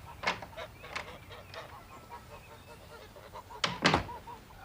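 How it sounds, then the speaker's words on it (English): Goose honking in a radio drama scene, a few loud nasal honks near the start, then a cluster of louder close honks near the end, with a door-like thunk mixed in. "I did what she said, Mr. Holmes, and I carried the bird to my pal"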